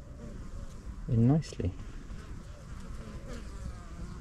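Honey bees fly into the hive during an inspection, making a continuous close buzzing throughout. Someone speaks briefly partway through.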